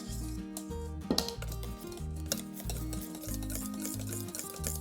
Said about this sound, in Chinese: 再加入打发的淡奶油拌匀。